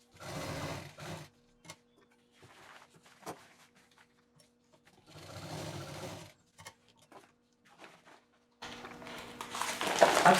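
A sewing machine stitches a cloth bed runner made from leftover fabric in short, whirring bursts separated by pauses, close and fairly quiet.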